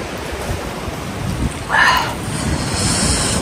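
Steady rain falls at a cold mountain base camp near Gurja Himal, a continuous hiss of drops with a brief louder patter midway.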